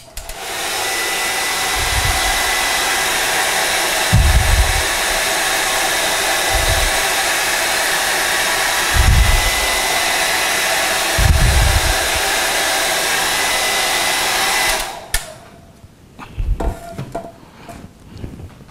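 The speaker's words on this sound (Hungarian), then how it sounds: "És ismét bekapcsolom a hajszárítót." A hair dryer blows steadily over sand and grass tufts, a loud continuous whoosh with a few low bumps, then switches off near the end, leaving quieter handling noises.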